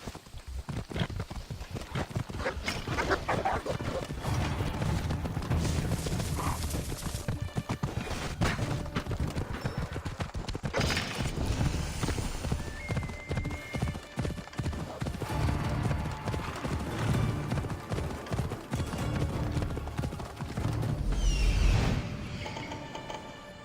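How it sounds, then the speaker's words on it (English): Horse hooves clip-clopping steadily in Assassin's Creed Odyssey, a continuous rhythmic trot with faint tack and mechanism clatter and ambient game sound underneath, no talking. "Looks like a sturdy horse."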